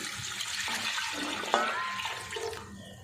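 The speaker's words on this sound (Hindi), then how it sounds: "और पानी में इसमें 4 कप डाल रही हूँ।" Water pours from a container onto whole masoor lentils in a pot, a steady splashing and gurgling stream close by, rising slightly in pitch as the vessel fills.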